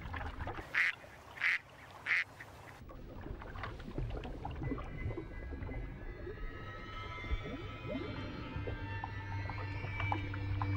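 Ducks on water, three clear quacks up close at the start, followed by softer splashing and low water movement with no further calls.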